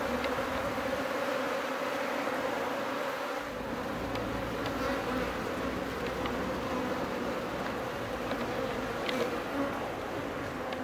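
A swarm of Japanese honeybees buzzing steadily outdoors, a dense continuous hum from many bees filling the whole span, with occasional individual bees passing closer.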